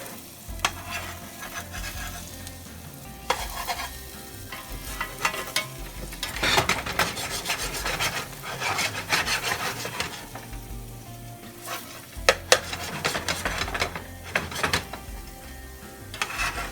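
Food moved around in a frying pan while it cooks for Ghanaian tatare or akankyie, with close scraping and stirring strokes in irregular bursts over a soft continuous sizzle, and no talking.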